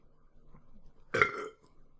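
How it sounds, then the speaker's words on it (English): A single short, throaty burp, loud and close, stands out against a quiet background with no speech over it. "Burp."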